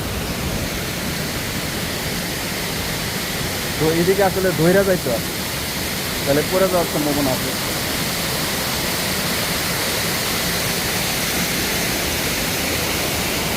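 Steady broadband rush of an artificial, motor-pumped waterfall at Ain el Samak, Lebanon, a constant hiss of falling water throughout, with someone talking briefly twice over it.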